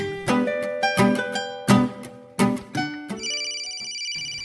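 A cellphone rings with a loud, close melodic ringtone, several bright chiming bursts in quick succession ending in a held high tone, with no talking.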